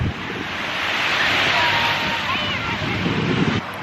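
Surf breaking on a crowded beach at Ocean City on a Monday, a broad steady wash of waves mixed with wind buffeting the microphone, with faint voices in the background.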